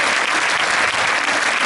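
Steady, dense applause from a cinema audience at a film preview screening, continuous clapping filling the room with no pauses.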